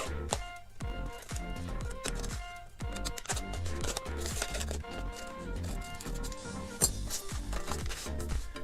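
Scissors snip through a paper dart pattern in a quick, uneven run of close crisp cuts, with rustling paper handled between strokes in a quiet room.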